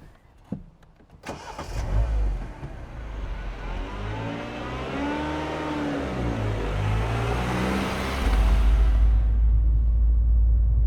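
Car pulling away during a driving test: a door thud and engine start, then a rising rev and rumble as it accelerates, settling into a steady low engine drone inside the cabin.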